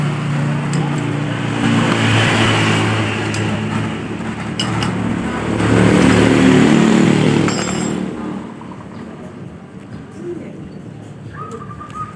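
A Honda Beat FI motorcycle that has run out of oil revs up close and loud for several seconds, then its engine note drops away, with birds cooing and voices nearby.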